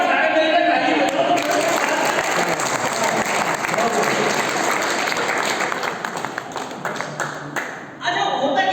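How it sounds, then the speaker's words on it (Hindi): An audience at a Hindi humor and poetry gathering breaks into sustained applause, dense and loud for several seconds before thinning out and stopping abruptly near the end. "एक बार सारे मिलकर ताली बजाओ।"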